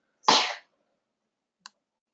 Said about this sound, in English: Sorry for the child sneezes in the background there.